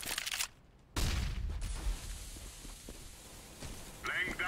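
A flashbang grenade bursts in CS:GO with a sudden loud blast and ringing hiss that trails off, amid ongoing game gunfire and footsteps, and a voice talks over it.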